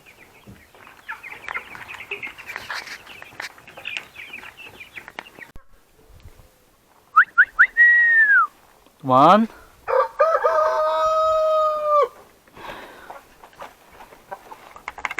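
Hens cluck and murmur softly at first on a farm, then a rooster crows loudly several times nearby, with a brief spoken word in between.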